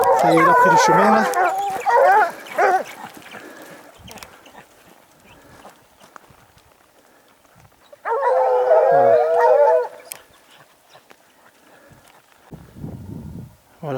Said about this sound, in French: J'arrive avec les chiens.